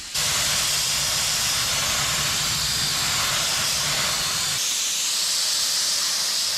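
A spray gun hisses continuously and loudly as thick primer is sprayed onto a new truck body under repair from tornado damage, with a low rumble underneath that cuts out partway through.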